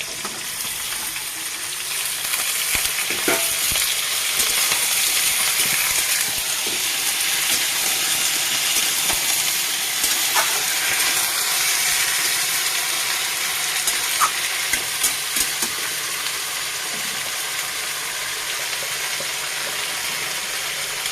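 Pumpkin, potato and bean vegetables stir-frying in a pan give a continuous hissing sizzle, close and steady, with scattered clicks and scrapes of a spatula against the pan.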